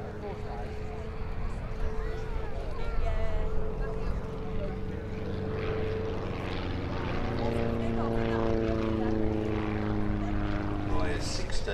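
Small display aircraft powered by a 1600cc VW engine flies past at an air festival, a droning propeller note rising and shifting in pitch as it passes, with a voice talking over it.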